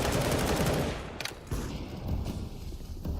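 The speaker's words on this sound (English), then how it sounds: "Shots out of the AWP." AWP sniper rifle shots ring out in a Counter-Strike match, loud cracks amid dense in-game gunfire that drops away and then returns in sharp bursts.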